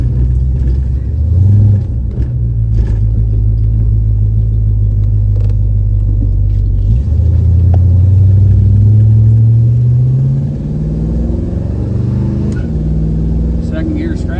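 A 1970 Ford Mustang fastback drives with a loud, close engine rumble that rises in pitch, drops at each gear shift, then climbs again, with a voice talking over it.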